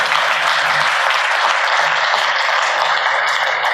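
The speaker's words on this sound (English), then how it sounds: "So let's give all of them a round of applause" An audience at an Active Knox speaker series gives a round of applause, a steady, loud, dense patter of many hands that holds evenly throughout.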